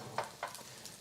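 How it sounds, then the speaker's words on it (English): A quiet, steady sizzle of onion frying in a hot pan, broken by a couple of soft scraping taps. "Oh, you can hear it sizzle."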